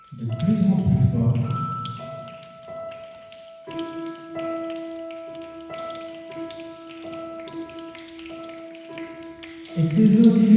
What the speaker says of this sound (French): et ces eaux diluviennes faisaient résonner sur le toit un vacarme épouvantable